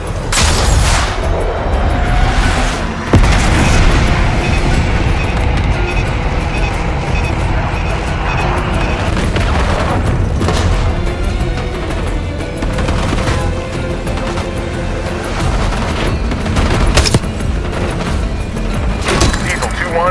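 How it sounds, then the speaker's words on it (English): Airstrike bombs slam down in Call of Duty Black Ops 6, set in a desert storm, with heavy booms and rolling blasts layered over steady gunfire and battle noise, loud and near, while a radio voice talks over it. "Bombs away."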